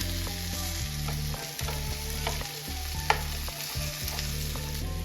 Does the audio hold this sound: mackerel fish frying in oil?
yes